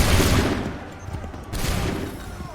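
A dense volley of musket gunfire erupts in Assassin's Creed 3, loud overlapping cracks at the start, a brief lull, then a second burst of rolling shots filling the scene.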